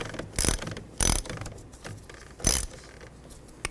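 A ratchet loosens the torque strut engine mount bolt on a 2009-17 Chevy Traverse, giving three sharp, close clicking bursts at uneven intervals over a quiet garage background.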